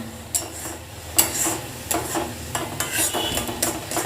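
A spatula stirs green mango chutney in a pan, scraping in irregular strokes over a soft sizzle of frying, close and fairly loud with no talk.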